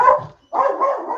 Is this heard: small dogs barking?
yes